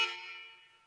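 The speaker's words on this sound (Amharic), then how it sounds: "ደግሞ የምን ክላክስ ነው?" A single car horn blast sounds close and loud at once, then decays over under a second, with no talk over it.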